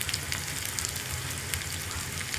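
Onions with curry leaves and dried red chillies frying in oil in a pan for a Kerala kichadi, a steady close sizzle with faint crackles throughout.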